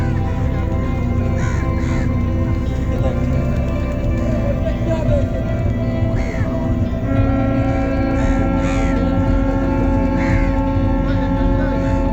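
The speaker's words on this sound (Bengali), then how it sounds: "ঠিক এই সময় একটা বড় জাহাজ যেতে লাগে" A large ship passes along a river at a riverside picnic, its low engine rumble droning continuously beneath crows cawing and people talking.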